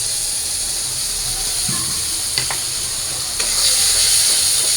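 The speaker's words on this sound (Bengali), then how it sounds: "এই মশলাগুলো এখন আমি দিয়ে দিই" Spices such as garlic, onion, green chili, chili powder, turmeric, coriander and ginger paste hitting fried onions in hot oil, a steady close hiss and sizzle with a few soft clinks, no talk.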